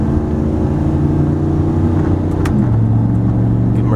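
A truck accelerates at quarter throttle, its engine a loud, steady drone whose pitch shifts partway through as it pulls on, recorded from inside the cab with no talk.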